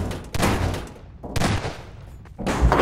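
Gunshots in Garry's Mod Prop Hunt ring out in three loud bursts, each sharp onset followed by a decaying tail, close and alone with no talk.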